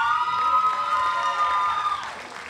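Audience cheering and applause at a 2007 CSULB engineering commencement ceremony, a steady crowd roar with sustained whistle-like tones running throughout, fading slightly near the end.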